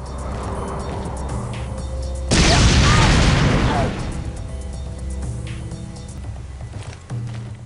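A grenade explodes in the Marine Sharpshooter shooter game: one loud, close blast with a rumbling roar that lasts over a second before settling back into the game's background noise.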